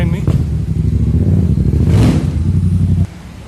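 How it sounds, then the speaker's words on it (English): A loud motorcycle engine rumbles close by on a street in Medellín, Colombia, a steady low drone that swells briefly mid-way, then cuts away sharply near the end. "the noisy motorcycle behind me"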